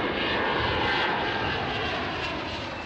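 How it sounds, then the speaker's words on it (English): Engines of a Tupolev M4 strategic jet bomber roar steadily and loudly throughout, a dense continuous rumble with no voices over it. "M4 became the first in the world strategic jet bomber put on service."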